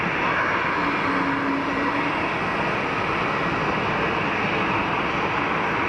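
A Swiss Airbus A220-300 jet holds on the runway at Geneva Airport, its engines producing a loud, steady broadband roar throughout.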